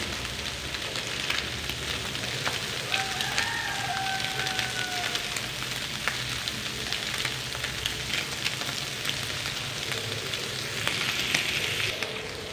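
Peas cook in a pan with a continuous soft sizzle and crackle, like light rain, going on steadily at moderate volume. A faint scrape of stirring comes and goes.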